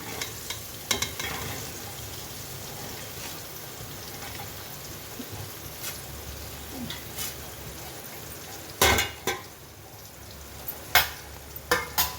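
Onion is stirred into green chillies frying in a pan for girmit, a Hubli-Dharwad snack, with a steady close sizzle and intermittent sharp scrapes and clanks of the spoon.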